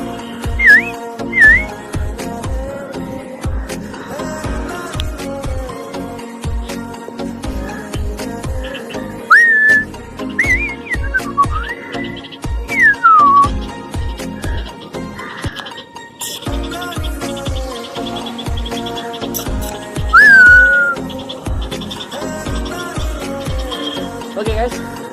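A person whistles in short rising and falling bursts to call bulbul chicks to feeding, repeated several times over a busy, close background of tapping and rustling.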